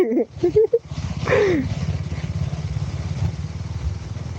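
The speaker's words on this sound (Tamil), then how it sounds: "டியூக் 390 குட்டுக்குள்ளே இறக்குறேன்" A 2025 KTM Duke 390 motorcycle rides off-road down into a ditch. After a brief voice at the start, its engine settles into a steady, close, low pulsing rumble.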